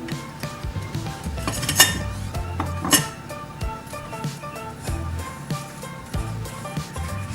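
A spatula stirs a crumb and melted butter crust mixture for a pumpkin cheesecake in a bowl, with repeated scraping and soft knocks plus a few sharper clinks against the bowl, close and continuous.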